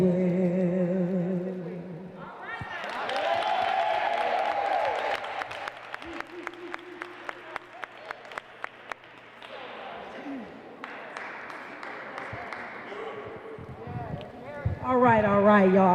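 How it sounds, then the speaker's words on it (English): An audience claps for a singer at a talent show, starting in a burst and thinning into scattered individual claps, with a voice talking over parts of it. "Y'all give her another round of applause."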